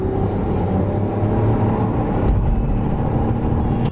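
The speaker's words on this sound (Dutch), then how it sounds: "Uittesten de kracht van de auto, want deze heeft een V6." A Lexus hybrid with a V6 accelerates, and its engine drone holds loud and steady up close. A couple of brief sharper noises cut in near the end.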